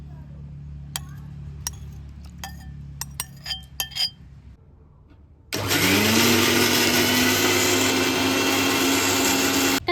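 A mixer jar loaded with aloe vera pulp and no water first gives a few glassy clinks and taps, then the motor starts abruptly and whirs loudly and evenly, its pitch settling as the blades spin up.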